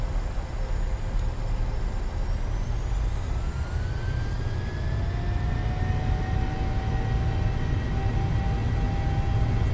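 A PMDG 737-700 in All Nippon Airways livery rolls for takeoff in Microsoft Flight Simulator, its engines roaring loudly and continuously as whining tones climb and spool up.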